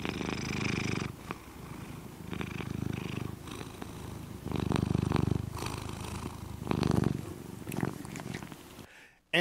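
A cat purrs close and steady in rhythmic rumbling waves, with soft breaths between cycles and a brief rustle at the very end.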